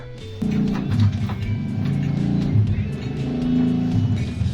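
A small motor engine hums steadily after starting up, a Yamaha Mio Smile scooter with newly fitted Aspira shock absorbers riding along with a low droning tone and occasional bumps, no speech.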